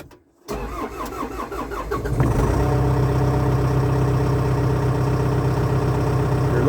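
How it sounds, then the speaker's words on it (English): A CAT 206B excavator engine cranks after a moment of silence, catches and settles into a loud, steady diesel idle that continues to the end. "let's fire up the machine. We'll give it a go anyway."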